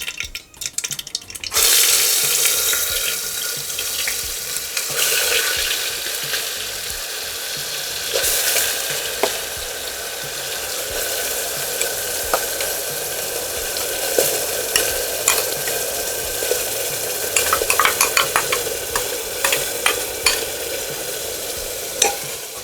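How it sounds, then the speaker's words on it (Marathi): Gravy is added to mixed vegetables frying in a pan. A loud, continuous sizzle fills the whole stretch, with spatula scrapes and stirring clatter scattered throughout and no voices. "तर डायरेक्टली आपल्याला ह्याच्यामध्ये ही ग्रेव्ही घालायची थोडा गॅस कमी करते मी थोडी थोडी घालते"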